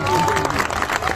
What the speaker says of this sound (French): S'il vous plaît, acclamation.